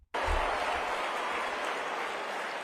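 Sustained applause with cheering from a crowd, starting abruptly and holding steady and loud throughout without any talk over it.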